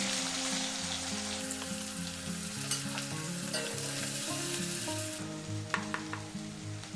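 Two medium onions dropped into hot oil with cloves, frying in a pan with a steady, moderately loud sizzle and soft crackles, plus a few sharper pops late on.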